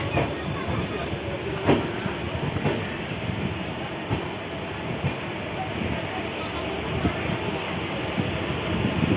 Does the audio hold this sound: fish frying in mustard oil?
no